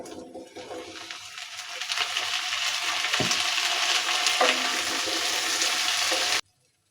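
Jujubes tipped into hot oil with garlic, chili and panch phoron for a sweet-sour pickle, setting off a loud, steady sizzle that holds for about six seconds with a few sharp crackles before cutting off abruptly.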